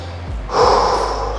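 During a leg workout, one loud, close, forceful breath rushes out sharply and then eases into a softer, lingering exhale.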